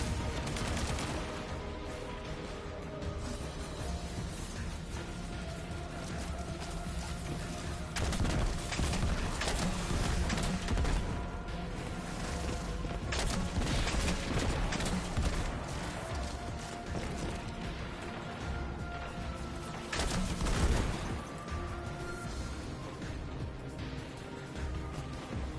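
Dense, continuous gunfire from the video game Destiny 2, with sustained rapid shots and bursts layered over a busy game soundtrack, loud and steady across the whole stretch.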